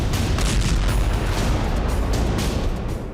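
A bomb explodes and destroys an Israeli Merkava tank: a loud, sustained roaring blast with deep rumble that fades slightly toward the end.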